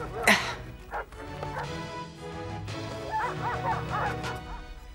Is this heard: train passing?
no